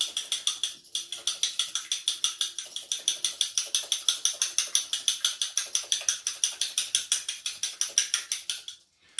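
Vegetarian meat mixture being worked together with egg and breadcrumbs in a bowl, giving a rapid, steady run of close, crisp clicking strokes that continue almost without pause before stopping near the end.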